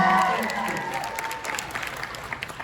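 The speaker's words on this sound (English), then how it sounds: "Yes, you may applaud that." A fan convention audience applauds and cheers in a hall, lively clapping that starts strong and fades toward the end, with some voices in the crowd.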